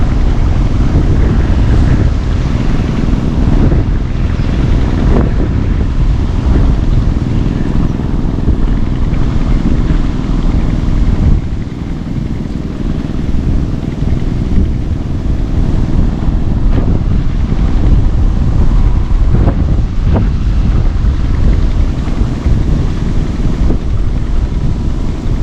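Strong wind buffeting the microphone outdoors during airgun fishing, a loud, continuous rumbling roar with gusty surges and no talking.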